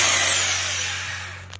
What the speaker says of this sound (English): get the drill bit, the drill with a new drill bit in